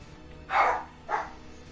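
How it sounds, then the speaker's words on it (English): A dog barks twice, a sharp bark followed half a second later by a shorter, softer one, moderately close and alone with no talking. "Damn dogs barking."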